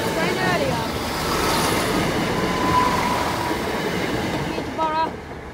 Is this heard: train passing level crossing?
yes